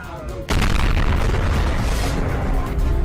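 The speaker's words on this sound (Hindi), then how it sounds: "आसमान से बम गिरता है तो बड़ा विस्फोट होता है।" A bomb blast in wartime news footage strikes suddenly as a loud deep boom, then a long heavy rumbling roar that fills the rest of the moment.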